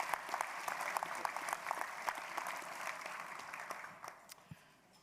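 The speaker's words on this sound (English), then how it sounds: "Please, a round of applause for that." Luncheon audience breaks into applause, a dense patter of many hands clapping at moderate distance that holds steady for several seconds and then fades out near the end.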